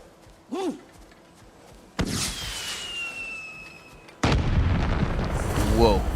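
Flare firework in God of War Ragnarök bursts with a loud pop, then crackles and hisses as it trails off, followed by a louder rumbling outdoor game ambience. A brief vocal sound comes just before.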